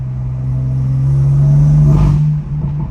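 A BMW M4 CS accelerates in a quick 40 mph roll with traction control on, its engine note climbing steadily and loudly from inside the car, then easing off near the end.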